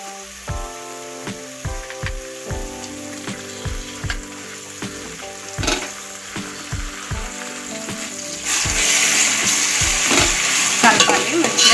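Ginger paste fries for chicken pulao, sizzling steadily in a pan while a spoon stirs and scrapes through it in repeated strokes. The sizzle swells louder toward the end, with a tonal accompaniment running underneath.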